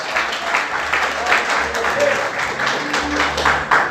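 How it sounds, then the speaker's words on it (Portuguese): A church congregation applauding during a sermon, sustained crowd clapping with faint voices and a low hum underneath, swelling in waves. "Aplauda o Senhor mais forte, aleluia!"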